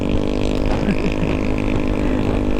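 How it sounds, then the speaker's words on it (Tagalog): A noisy motorcycle engine drones steadily and close by, holding a constant rough idle throughout with no talking. "Ang ingay naman ng motor mo."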